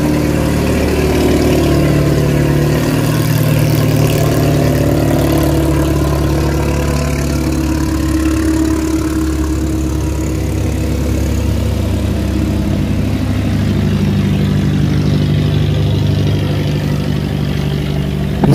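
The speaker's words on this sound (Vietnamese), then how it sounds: "anh xà lan chở đá nha, anh này cũng khá lớn các bạn, anh đang tăng tốc để mà qua cống nha" A large stone-laden cargo barge on a canal, its heavy diesel engine accelerating to pass through a sluice gate, producing a loud, continuous low rumble and roar with no talking.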